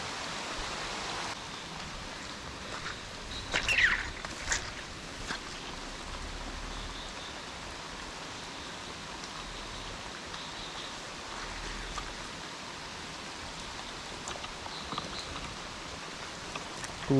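Steady rain falls outdoors during a fishing trip, a continuous broadband hiss with scattered drop impacts, close and even throughout, with no one talking.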